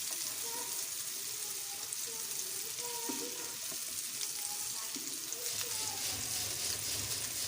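Chicken shami kababs fry in a pan with a loud, dense, continuous sizzle and crackle, close and unbroken, with faint voices underneath.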